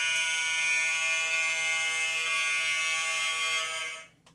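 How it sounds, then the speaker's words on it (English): A model boat's horn, from the MV David Sizer, sounds as a steady, loud electronic tone with dense bright harmonics, held for about four seconds before cutting off abruptly. "And I'll just hit the horn."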